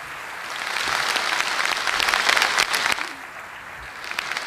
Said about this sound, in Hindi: एक बार फिर से हमारे सर्वप्रिय प्रधानमंत्री के लिए जोरदार तालियां हो जाएं।